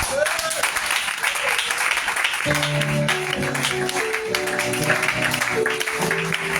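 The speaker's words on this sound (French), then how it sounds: "Tu as applaudi mon discours" Congregation applauding during a church service, a dense steady patter of many hands with a voice talking over it and sustained musical tones from an instrument entering partway through.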